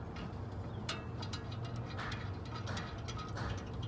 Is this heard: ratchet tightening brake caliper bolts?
yes